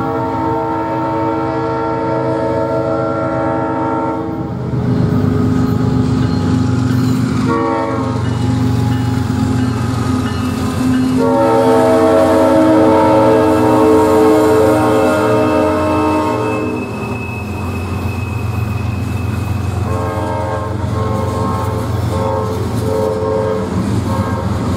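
A CSX Q442 mixed manifest freight train led by locomotive 1776 rounds a curve at Plant City heading north on the Yeoman subdivision, its horn sounding in long loud blasts over steady rumble and wheel noise, close and continuous.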